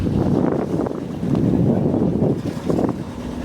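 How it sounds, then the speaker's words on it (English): Steady wind rushing across a microphone on the water at a sailboat regatta, a continuous low roar that gusts louder in places, with no talking. "there's actually a little wind picking up"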